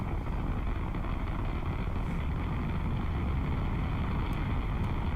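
F1 rocket engines burn in Kerbal Space Program with the RP1 overhaul, giving a steady, loud, broadband roar that stays constant throughout with no breaks and no talking.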